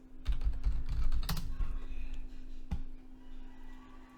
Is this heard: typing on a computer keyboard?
yes